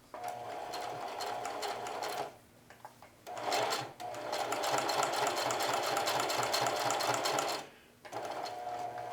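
Sewing machine bar tacking a jeans pocket with a short, narrow zigzag stitch, running in three steady bursts of fast needle chatter separated by brief pauses, close and fairly loud.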